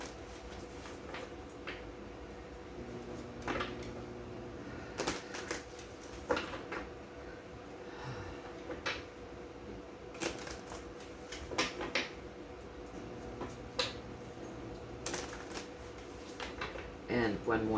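A deck of tarot cards is shuffled over and over, with crisp riffling and flapping bursts and soft card taps. A voice talks at times over the shuffling.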